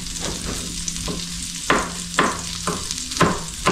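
Garlic and onion frying in a pan, with a steady sizzle throughout and several louder bursts of crackling roughly every half second, as if the ingredients are being stirred or tossed.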